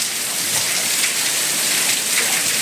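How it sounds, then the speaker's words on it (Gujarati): Heavy monsoon rain pours steadily in Kutch during a windy afternoon storm. A dense, loud, even hiss of downpour continues without a break, close and constant, with no voices. "વરસાદ ફૂલ ચાલુ છે"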